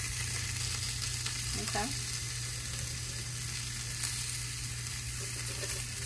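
Birria tacos with cheese sizzle steadily in a hot pan, a constant frying hiss throughout, with a brief scrape as they are flipped and a short spoken word over it.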